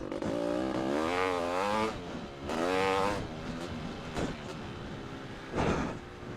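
A Honda CR500 R two-stroke motorcycle, a polished-chamber engine tuned to mid-1980s spec, runs loud and close, with rising and falling revs that swell twice, then a droning steady note and a brief later surge.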